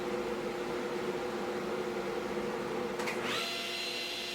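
A table saw drones steadily while cutting a flipped wooden board at a 60-degree angle, with a brief sharp shift in pitch near the end of the cut as the blade frees up.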